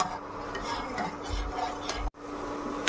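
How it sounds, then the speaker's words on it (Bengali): Semolina being stirred in a pan with a spoon after oil and salt, a steady scraping and stirring close by with a soft tick-like rhythm and a brief pause partway through. "সুজিটা দিয়ে দেওয়ার পর অনবরত নাড়তে হবে, নাহলে নিচে লেগে যাবে।"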